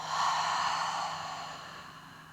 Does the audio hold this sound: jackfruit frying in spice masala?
no